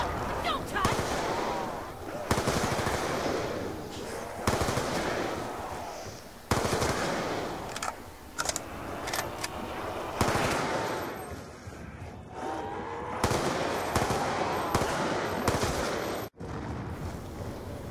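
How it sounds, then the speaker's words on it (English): Guns fire at zombies on the Die Rise map of a video game. Sharp shots come in repeated bursts and rapid strings, loud and close, over a constant busy game background. "Shoot them a couple times and then punch them."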